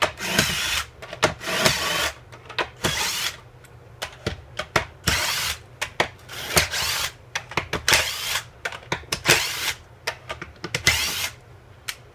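Power drill loosening screws on a homemade Foreman-style pocket hole machine, with repeated short whirring bursts separated by pauses, close and fairly loud.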